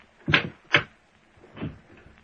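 A desk drawer is opened with two quick wooden knocks followed by a softer sliding thud, close and distinct in a quiet room, with no talk.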